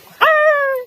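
A soldier imitates a small dog's bark with his voice, giving one drawn-out, whiny yelp that holds steady for just over half a second and then stops.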